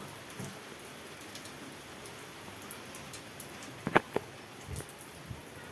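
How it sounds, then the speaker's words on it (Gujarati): Steady rain patters on a surface, a dense even hiss with a few sharper drops and taps standing out near the middle. "વરસાદ આવી ગયો જોવો કેટલો બધો"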